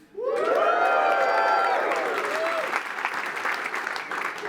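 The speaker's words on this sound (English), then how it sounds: "give me your best cheer, woo, clap, foot stomp, whatever you want to do" Tech conference crowd cheering, whooping and clapping at full volume, high shouts up front giving way to sustained applause and stomping that stays loud to the end.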